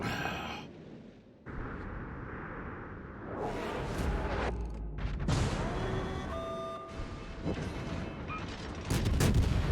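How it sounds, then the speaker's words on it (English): A torpedo strikes an enemy ship in the naval video game World of Warships, heard as several heavy booming explosions and crashes over a constant rumbling game-engine background, with a louder burst near the end. "Got a torpedo hit off on him."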